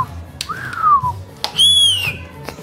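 A person whistles two sliding notes in a gym, the first falling and the second high and warbling, clear and close over faint background hum.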